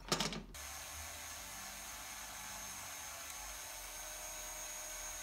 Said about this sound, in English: Just get a little drill bit